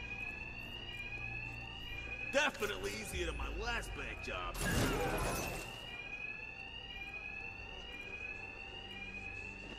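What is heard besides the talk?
alarms ringing in the video game Batman: Arkham Knight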